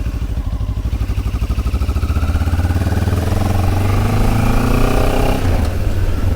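QJ Motor SRT 700 SX motorcycle pulls away: a loud, close engine pulses at a rhythmic idle, then revs rise smoothly as it accelerates, with a brief gear change near the end.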